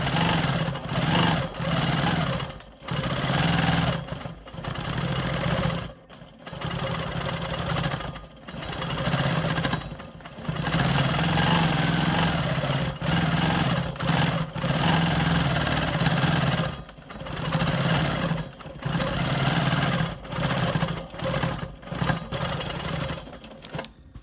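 Quilt Maker Pro 20 quilting machine stitching a quilt block, a steady mechanical whirring hum running in bursts with brief pauses between passes, close and fairly loud, no talking.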